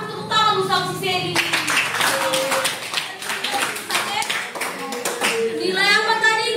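A group at a school teacher-training session claps for a classmate, a burst of dense, brisk hand claps lasting a few seconds, with voices speaking just before it, over it, and after it ends.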